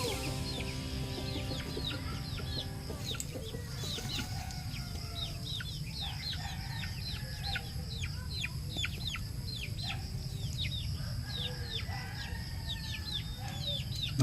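Hens cluck and chirp repeatedly over a constant low farmyard hum, with occasional louder squawks throughout, including a mother hen.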